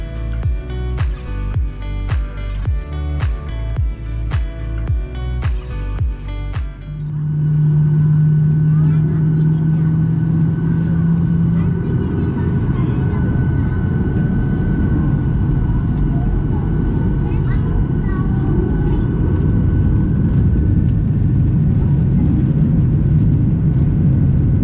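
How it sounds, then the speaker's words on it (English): A Ryanair Boeing 737-800 departs Stansted for Berlin. Rhythmic pulsing gives way to a loud, sustained roar as the jet accelerates down the runway and climbs, holding strong to the end. "now it is time to take a look at the departure of our plane and the takeoff"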